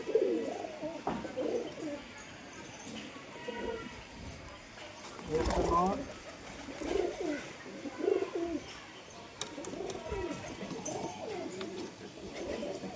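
Pigeons coo repeatedly on a house rooftop, low throaty calls coming in soft, rolling bursts at moderate distance, with faint background voices and some rustling.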